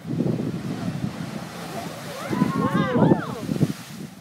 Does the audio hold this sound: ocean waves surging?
yes